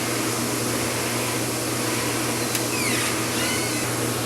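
A Mutoh sublimation printer runs a head cleaning cycle, giving a steady loud mechanical whir and hum throughout with a brief click and faint sweeping whine near the end.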